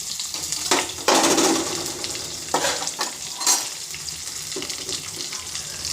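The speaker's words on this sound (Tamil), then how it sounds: "அது கொஞ்சம் ஃப்ரை ஆகட்டும் எண்ணெயில்." Chopped onion and brinjal rice ingredients frying in hot oil, a loud close sizzle with bursts of stirring and scraping in the pan, no talking.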